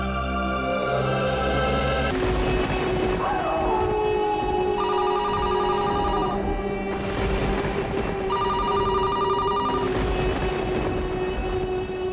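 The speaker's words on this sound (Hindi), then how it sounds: "फोन" A telephone rings repeatedly in evenly spaced bursts over a steady background of music and hum, loud and close.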